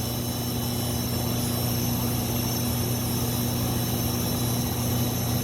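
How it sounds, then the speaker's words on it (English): The motor of a furnace combustion blower runs in a dusty industrial setting, a steady close drone with a constant low hum and broadband whir, unchanging for the whole stretch, with no voices. "This motor's running."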